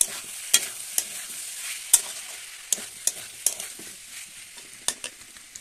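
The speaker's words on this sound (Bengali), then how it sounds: "তরকারিটা ওই সেদ্ধ আলুগুলো দেখো আমি কষিয়ে নিচ্ছি ভালো করে" Boiled potato pieces sautéed with spices in a pan, heard as a close, steady light sizzle punctuated by repeated sharp scraping clicks of a spatula stirring, with no talking.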